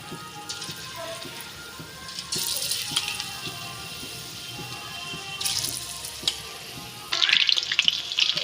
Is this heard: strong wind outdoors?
no